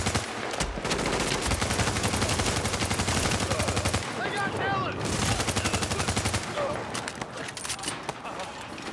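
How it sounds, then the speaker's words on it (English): Enemies in Tom Clancy's The Division open fire on civilians, a near-continuous crackle of machine-gun bursts with brief lulls, loud and close, with voices speaking over the shooting. "They're just shooting civilians."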